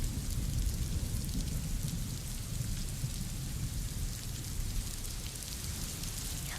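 Heavy monsoon rain pours down in Sangli as river levels rise, a loud, dense, unbroken hiss with a deep rumbling undertone that stays steady throughout, with no voices.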